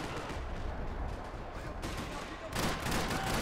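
Gunfire in a Max Payne 3 multiplayer match, a dense continuous rattle of shots that grows louder and sharper near the end, with no clear talk over it.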